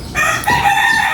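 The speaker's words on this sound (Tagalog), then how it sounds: "Maingay po yung mga manok." A rooster crows loudly and close by among chickens at a home kitchen in the Philippines, one drawn-out cock-a-doodle-doo with clucking fowl under it.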